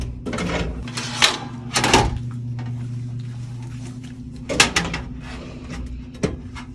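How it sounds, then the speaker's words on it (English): Classroom drawer clatters open and shut a few times, with sharp wooden knocks and rattling of dishes inside, separated by quieter handling noise. "I'm just going to put these in that bottom drawer"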